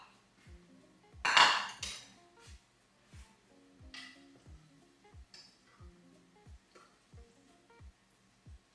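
Plantain fries in a pan while a utensil taps and stirs against it, giving a soft sizzle under a regular series of light clinks and one louder scraping clatter near the start.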